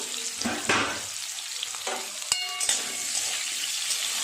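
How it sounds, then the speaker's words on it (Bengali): Spiny gourd sizzles and crackles in hot oil in a wok, with occasional scraping stirs and a sharp metallic clink, close up and without talk. "কাঁকড়গুলো ভালোভাবে ভাজা হয়ে গেছে, আর একটু ভাজা হোক"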